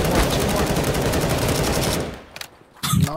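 Sustained automatic gunfire in a video game as the mouse button is held down, a dense continuous burst of rapid shots for about two seconds before it cuts off, followed by brief quieter sounds.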